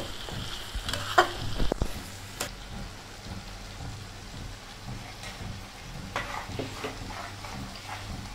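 Jaggery fries into a mango and garlic pickle mixture, a soft continuous sizzle with scattered stirring scrapes and a couple of louder clatters early on, close and fairly quiet.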